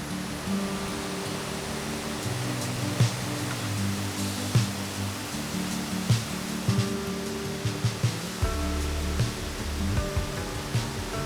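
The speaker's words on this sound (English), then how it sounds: "This is the Middle Falls, and I believe this is the tallest waterfall of the 3 you can find here in Letchworth State Park." Middle Falls, the tallest of three waterfalls in Letchworth State Park, New York, pours as a constant, dense roar of rushing water, steady and full throughout with no voices.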